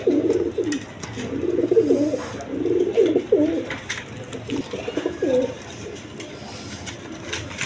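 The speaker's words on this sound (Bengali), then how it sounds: "আরেক পেয়ার কবুতর আছে, হাই ফ্লাইং গিরিবাস কবুতর" A pair of high-flying Giribaz pigeons cooing repeatedly in soft, rolling bursts nearby, a few calls overlapping, fading toward the end over faint background noise.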